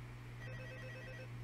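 The phone rings in the night office of the Five Nights at Freddy's 2 video game: a steady electronic ringtone with a low drone beneath it, fairly faint and uninterrupted, with no voices.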